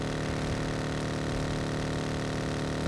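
A steady, droning aircraft engine in the video game PUBG hums continuously at an even level, with no voices and no change in pitch.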